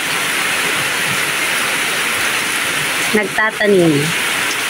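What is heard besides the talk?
rain falling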